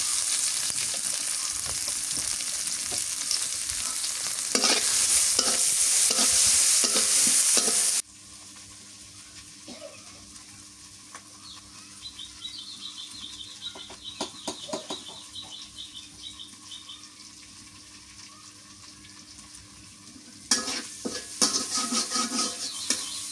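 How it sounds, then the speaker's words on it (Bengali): Onion and green chili frying in oil in a wok, with a loud sizzle and stirring scrapes at first, then a quieter crackle with occasional utensil clinks, a rooster or hen clucking faintly in the background. "এখন ওই কড়াইয়ের মধ্যে আমি রান্না করবো, তো ওই জন্য আগে দিয়ে দিচ্ছি পেঁয়াজ মরিচ"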